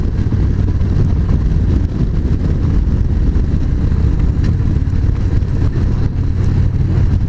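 Loud, throaty exhaust of a Victory Magnum X1 Stealth Edition motorcycle roaring continuously at close range, a deep rumbling engine note held steady with no speech.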